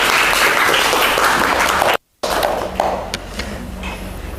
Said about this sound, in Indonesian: coba tepuk tangan untuk teman-teman kita ya